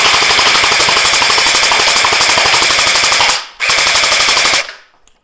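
An upgraded, customized M4A1 GEN8 toy gel ball blaster fires in loud, rapid full-auto bursts: a long continuous string of shots, a brief break, then a shorter burst that stops abruptly, with no talking.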